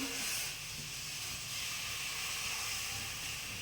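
Hot water poured into a simmering fish curry made with black cumin paste gives a steady, loud hiss of steam and sizzling, broad and continuous until it cuts off abruptly.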